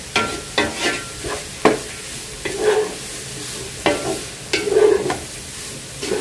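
Cabbage being stir-fried in a pan for chicken vegetable fried rice, with repeated scraping stirs and a soft sizzle between them, close and moderately loud, no talking.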